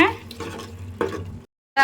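Washed turkey berries are stirred into hot spiced oil and masala in a pan for tamarind kuzhambu, producing brief scraping, sizzling stirs up close before a sudden cutoff.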